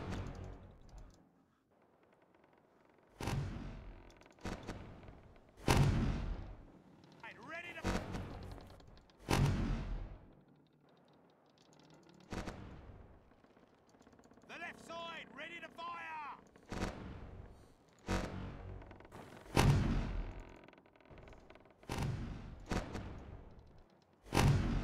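Ship broadside cannon fire in the naval game Sea Dogs: a series of loud, sharp booming shots spaced a few seconds apart across the stretch, some in quick pairs, with game sound between them and no speech.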